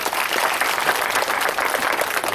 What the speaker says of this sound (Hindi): इसके स्वागत में जोरदार तालियां बजाएं